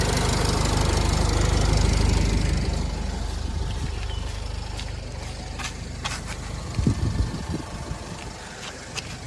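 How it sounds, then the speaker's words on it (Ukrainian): A Renault Koleos car engine idles steadily and evenly, a low continuous rumble with a few small knocks and clicks toward the end. "Взагалі двигун тут рівнесенько працює."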